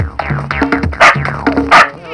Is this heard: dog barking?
yes